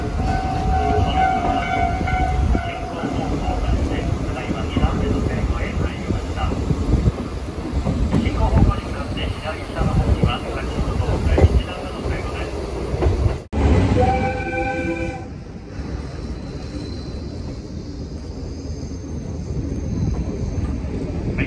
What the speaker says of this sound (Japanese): 列車は木次線の見どころの一つ、3段式スイッチバックへ進んでいきます。